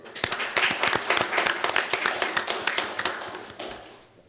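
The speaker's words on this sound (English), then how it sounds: "I think a round of applause is in order for" Brisk round of applause from a small crowd at a county commission meeting, many hands clapping close and irregular for about four seconds before tapering off at the end.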